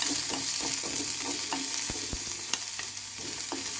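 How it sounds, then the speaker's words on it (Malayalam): Finely chopped shallots sautéing in coconut oil for Kerala kadala curry, a continuous close sizzle with repeated soft scraping strokes and a few sharp clinks of the spoon against the pan, no talking. "നമ്മളെടുത്ത ചെറിയ ഉള്ളി ചെറുതായിട്ട് മുറിച്ച് അതും ഈ വെളിച്ചെണ്ണയിലിട്ട് നന്നായിട്ട് വയറ്റണം"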